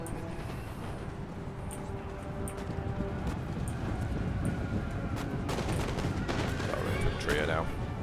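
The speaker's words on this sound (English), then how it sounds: "Infantry are now now shooting, and this is good." Infantry volleys in a Total War: Empire battle, a rolling crackle of musket fire that builds into dense, overlapping shots in the middle distance, with a commentator talking over it.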